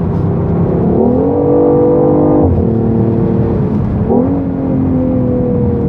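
BMW i8 hybrid sports car accelerating, with a synthesized engine note layered over electric whine: a loud, steady rising drone that dips briefly around halfway, then climbs again, with no talking.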